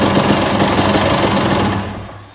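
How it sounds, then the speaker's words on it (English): KTM two-stroke 250/300 TPI dirt bike engine cranking and catching on the electric starter, a loud close buzzing rattle that holds steady for about two seconds, then fades out. "the way I start my bikes is first I just bump the starter button like that"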